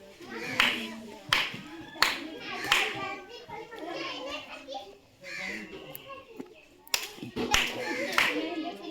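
Hand claps and finger snaps used for counting in a village school classroom, a series of sharp separate claps and snaps at uneven intervals, with children's voices talking and calling out between them.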